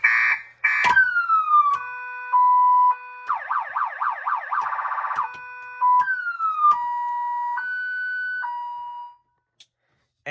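A PA speaker system fitted in a 1972 Volkswagen Beetle plays a series of loud electronic siren tones, sliding wails, steady beeps and a rapid yelp warble, cycling through patterns alone before cutting off.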